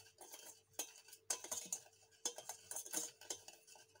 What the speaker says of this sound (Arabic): غادي نحرك بهذا الشكل هكذا حتى يتخلطوا لي هاد النواشف كاملين